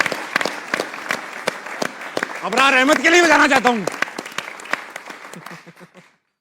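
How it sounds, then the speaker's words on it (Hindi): A studio audience claps for Pakistani cricketers on a cricket talk show: steady scattered applause under someone speaking, swelling briefly, then fading out. "फखर जमान के लिए भी तालियां बजाना चाहता हूं"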